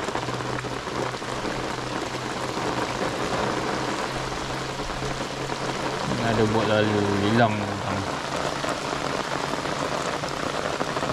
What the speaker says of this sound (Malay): Dah hujan ni.